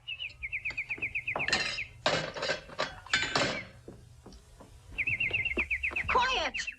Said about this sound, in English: That bird's giving me a headache.